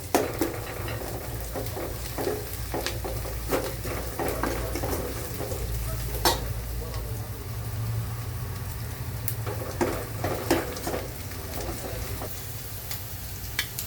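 Onions frying in a pan with chilies and garlic-ginger paste for shev bhaji, a steady sizzle broken by occasional clinks and scrapes of a spoon stirring against the pot.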